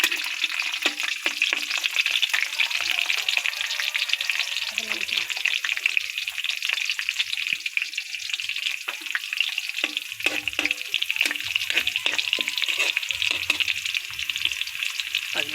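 Onion and tomato fry in plenty of oil in a pan, a dense crackling sizzle throughout with rapid spatters and spatula scrapes, close and steady.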